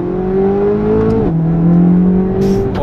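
A Corvette C8 Z06 with a naturally aspirated V8 drones loudly from inside the car, its engine note holding steady, dipping briefly as revs drop, then rising again.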